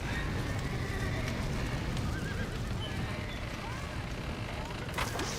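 Horses in the Red Dead Redemption video game running out of a barn, a continuous busy rumble of hooves with faint whinnies mixed in, loud and steady throughout.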